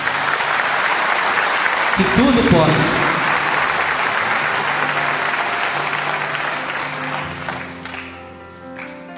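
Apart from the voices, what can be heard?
audience applauding in church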